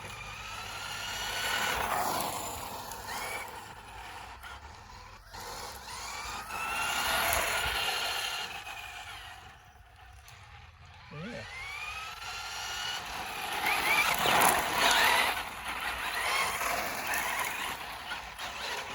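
A Tamiya Manta Ray RC car with a 19-turn motor runs over dusty gravel, its high electric whine rising and falling in repeated passes, nearer and farther, with gravel crunch and no talk.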